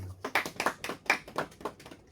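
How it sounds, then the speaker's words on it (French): A small group of students claps for a classmate during a live youth radio broadcast from a school, with a handful of sparse, uneven hand claps scattered across a couple of seconds, fairly quiet and close. "Est-ce qu'on peut l'applaudir?"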